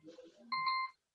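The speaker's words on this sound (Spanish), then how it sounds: "que te está sonando la alarma." An alarm beeps once in a steady electronic tone lasting about half a second, following faint voices and then cutting off into silence.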